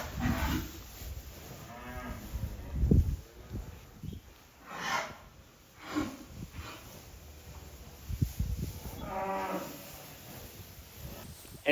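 Cattle, young heifers bedded down in a barn, moo several times with low drawn-out calls at irregular intervals, some near and some farther off, with snorts and rustling between.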